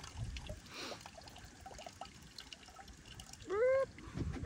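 Water trickles faintly and steadily through a filter at a tent camp on a farm, a quiet, thin dribble against low background noise, with a brief squeaky tone near the end.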